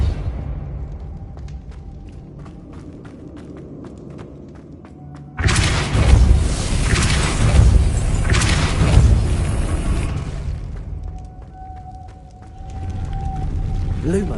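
A Depulso spell cast in the video game Hogwarts Legacy lands as a sudden loud boom, followed by a dense, roaring blast that holds for about five seconds. The sound then fades back into quieter game ambience.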